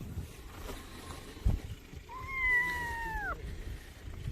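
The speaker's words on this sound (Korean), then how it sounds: "살려달라고 앵앵거리는데?" A stray kitten gives one drawn-out, wavering meow midway through, fairly clear against soft background rustle and low noise.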